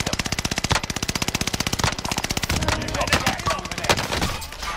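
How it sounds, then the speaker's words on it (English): Video game gunfire: a loud, fast, steady automatic burst of evenly spaced shots for about two seconds, followed by more scattered shots and impacts in a busy, noisy mix. "Receive an hostile fire"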